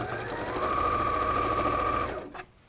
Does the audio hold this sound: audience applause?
no